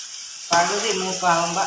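Chopped ginger hits hot oil for a ginger curry, setting off a sudden, loud sizzle after a brief silence. The sizzle then crackles on steadily at close range.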